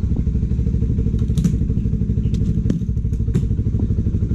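A Rusi Flash motorcycle engine idles loud and close with a steady fast putter, while light clicks and rattles come through on top and nobody speaks.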